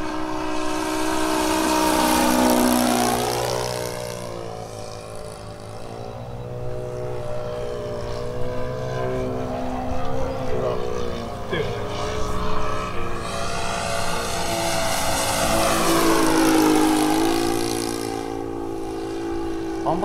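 A Super Skybolt RC model airplane engine buzzes steadily in flight, its pitch sliding up and down with Doppler-like sweeps as the plane passes, loud and sustained for the whole stretch.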